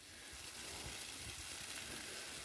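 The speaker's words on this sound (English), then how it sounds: "And listen to those suckers sizzling away now." Steady, dense sizzling from steak frying in a hot pan, crackling softly and continuously with no voices.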